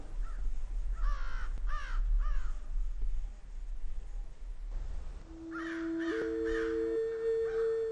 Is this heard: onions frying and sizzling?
no